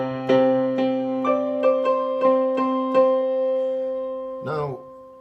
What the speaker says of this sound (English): so now this is the sound of key C.